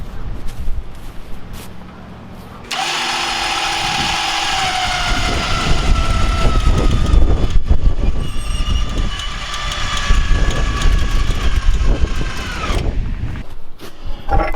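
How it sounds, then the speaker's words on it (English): An electric winch hauls a crawler up onto a floorless custom crawler hauler, its motor whining in a steady, loud harmonic tone for about ten seconds before cutting off. "At this point, I'll operate the winch and pick it all up."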